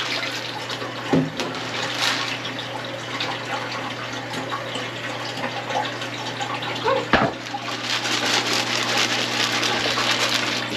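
Water running steadily into a minnow tank in a shed, a continuous rushing flow with a low hum beneath and a couple of brief knocks.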